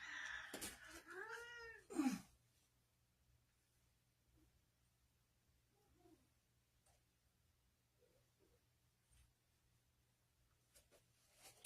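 A cat gives a few loud, wavering meows at close range, then falls quiet apart from faint movement noises.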